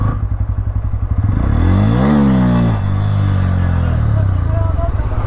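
Motorcycle engine revving hard and climbing in pitch for a wheelie attempt, loud and close, holding high revs for a few seconds before dropping back to a steady idle.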